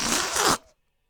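A loud, raspy hiss of air rushing out of a balloon, fluttering for about half a second before cutting off abruptly into silence.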